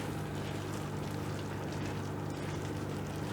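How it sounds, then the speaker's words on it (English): Bacon and mushroom risotto bubbles just after coming out of the oven, a soft, continuous, close-up simmering and gurgling at low volume with no talking. "I'm going to take it out. It's all bubbling."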